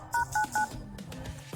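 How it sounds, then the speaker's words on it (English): Three evenly spaced phone keypad tones beep clearly while a number is dialed, each short and loud, followed by a softer quiet stretch with faint handling clicks and a final brief tone. "So open your dial pad, then type this number."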